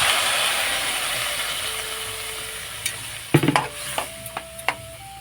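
Water poured into a pan of fried ghugni ingredients gives a broad hiss that slowly fades, followed by a few sharp clinks and scrapes of a spoon against the pan.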